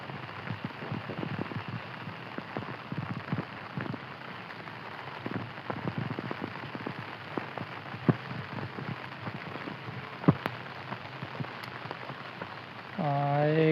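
Steady rain pours onto a farm field during rice transplanting, a dense close patter with scattered sharper drops throughout, and a voice briefly begins speaking at the very end.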